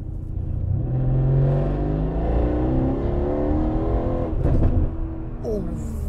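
A 2017 Mercedes C63S AMG set to sport plus mode revs and pulls hard, its engine note rising steadily and staying loud for several seconds, with a brief sharper burst near the end and a voice reacting over it.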